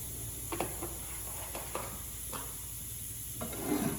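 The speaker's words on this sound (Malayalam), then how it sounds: "ഇനി ഈ നെയ്യിലേക്ക് നമുക്ക് പറങ്ങാണ്ടി പരിപ്പും മുന്തിരിങ്ങയോട് ഇട്ട് ഇളക്കാം" Cashews and raisins stirred and fried in hot ghee, a soft steady sizzle with light scraping strokes of a spoon against the pan at irregular intervals, quiet and close.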